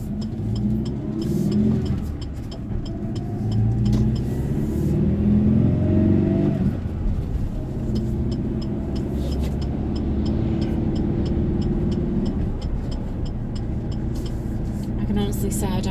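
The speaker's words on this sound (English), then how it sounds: "I can honestly say I don't like the sound of it revving" Petrol 2.4-litre engine of a 2020 Great Wall Steed twin-cab ute with a five-speed manual revving in steady, droning swells, heard from inside the cab while a person talks over it throughout.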